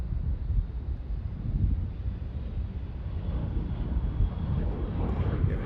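Boeing 777 jet from Madrid at Charlotte Douglas International Airport, a steady low jet-engine roar with broadband wind rumble throughout, sustained and moderately loud at a distance.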